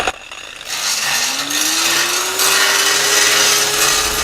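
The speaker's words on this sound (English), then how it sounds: "Then you get a grinder. You must follow the joint how it has been welded." An angle grinder with a grinding disc works along a welded joint, its motor whining up in pitch as it spins up, then holding a loud, steady, harsh grinding rasp.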